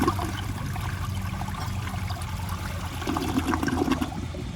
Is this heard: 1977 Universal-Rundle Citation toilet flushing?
yes